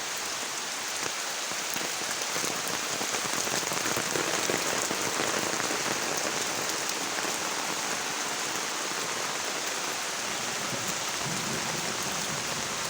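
Heavy rain pours steadily onto surfaces, a dense constant patter with no pauses and no voices.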